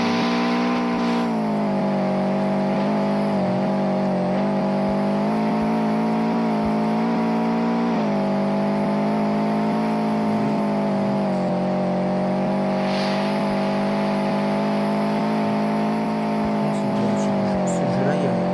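A race car in the Car Dealership Tycoon video game drones steadily at high revs through a long race, its engine tone wavering slightly up and down with no break.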